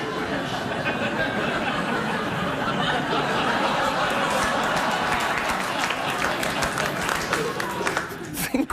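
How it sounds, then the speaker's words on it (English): A television talk-show studio audience applauds steadily for several seconds, a dense wash of clapping mixed with scattered laughter and crowd chatter, tapering near the end. "Think what you just applauded."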